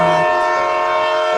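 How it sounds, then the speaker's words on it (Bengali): A train comes to a stop in a drama sound effect, with a sustained, loud tonal screech or horn-like wail held steady throughout and a brief lower tone at the start. "ট্রেনটা জোরে একটা শব্দ করে থেমে গেল।"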